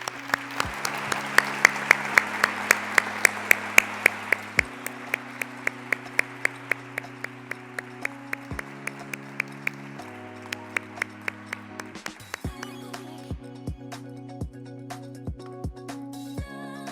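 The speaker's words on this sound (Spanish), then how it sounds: "Un fuerte aplauso." Applause at an award ceremony for a social enterprise prize, blended with loud music carrying a steady, regular beat throughout.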